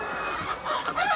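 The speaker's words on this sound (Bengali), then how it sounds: "আমার এই খামারের ভিতরে মুরগি আছে আপনার 600 পিস মুরগি রাখছি" Several chickens on a poultry farm cluck and squawk together in a busy, continuous chorus, with overlapping calls from a crowded flock of about 600 birds nearby.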